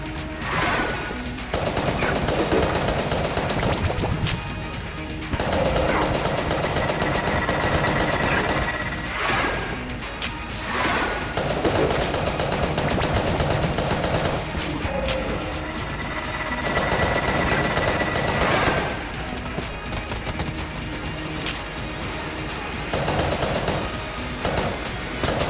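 Rapid in-game gunfire from Enter the Gungeon, loud bursts of dense shooting with crashing impacts that come in waves across the whole stretch, with brief pauses between volleys and no voice over it.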